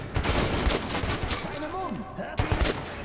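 Gunfire in the shooter Metro 2033 Redux: several short, hesitant bursts and single shots, fairly close and moderately loud, with a pause before a final cluster of shots and game ambience throughout.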